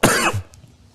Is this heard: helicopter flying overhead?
no